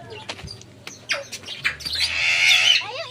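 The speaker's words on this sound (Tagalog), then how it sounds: "Ay, yung ibon, parrot." A parrot gives a series of harsh squawks and chirps at close range, with a longer raspy call near the end.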